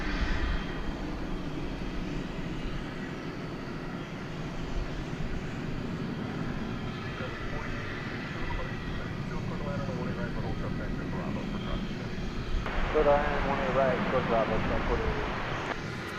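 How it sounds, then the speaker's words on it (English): A McDonnell Douglas MD-11 jet at DFW Airport at night gives off a sustained, moderately distant engine rumble and whine, with talk and radio chatter running over it throughout. "21st century MD-11"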